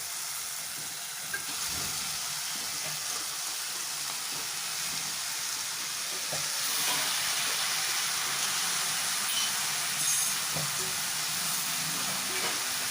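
Bitter gourd frying in a pan: a continuous broad sizzle and hiss of hot oil that swells after the pieces go in, with occasional soft clicks of stirring, close and steady.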